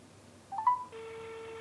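Blackview X20 smartwatch placing a phone call: a brief electronic tone blip, then a steady faint ringback tone sustained to the end, quiet and alone.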